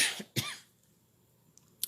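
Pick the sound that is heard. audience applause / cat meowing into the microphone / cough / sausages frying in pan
cough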